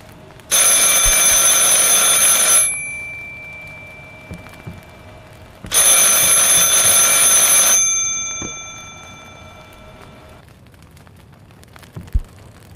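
Telephone ringing nearby: two loud, bright bursts of electronic trilling, each about two seconds long and four seconds apart, decaying afterward, with no talk.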